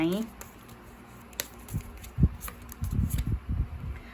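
Oracle cards are shuffled by hand in soft, uneven bursts of papery riffling and tapping that grow busier toward the end, after a brief voice at the start.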